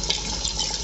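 Water poured steadily into a pot of Bengali katla fish curry with potatoes, a brief continuous splashing rush up close with no pauses.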